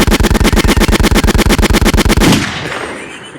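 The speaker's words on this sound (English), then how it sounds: "cover your ears for these gunshots" Rapid burst of gunshot sound effects, about twenty loud evenly spaced cracks in quick automatic-fire rhythm, stopping abruptly and leaving a fading echo and low noise.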